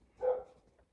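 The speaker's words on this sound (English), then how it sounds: "A dog is barking." A single dog barks once in the distance, one short muffled woof standing out from an otherwise quiet background.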